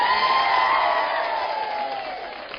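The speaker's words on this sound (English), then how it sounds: "give one final round of applause to Eoin Colfer" A school audience at Forest Hill School, applauding author Eoin Colfer, erupts in a short burst of cheering and children's shouts with clapping mixed in, loud and close, fading slightly over a few seconds.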